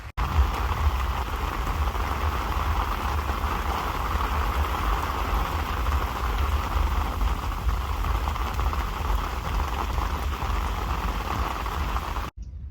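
Steady rain falls at a fishing lake, a dense continuous hiss and patter close by, with a low rumble underneath, unbroken and without talk until it cuts off abruptly at the end.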